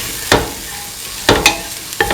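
A spoon scraping through garam masala spices in a pan of ivy gourd and green peas with coconut milk, three distinct stirring strokes over a soft background sizzle, close and clear without speech.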